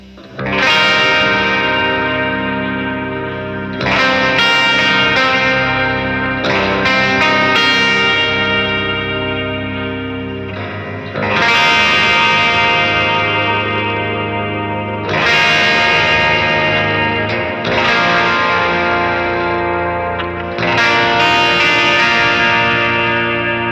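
Jackson electric guitar through its full bridge pickup, loud distorted chords with chorus and effects, several sustained strums that ring out and restart in a steady pattern, alone with no talk.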